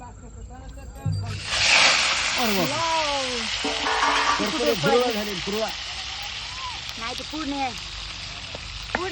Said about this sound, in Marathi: सगळ्या माणसाला फोडणी ऐकू गेली